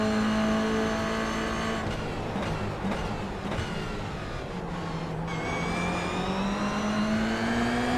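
Production race car in iRacing at Spa, a continuous loud engine drone held at high revs, with pitch slowly sliding as the throttle is blended and gears change, alone without talk.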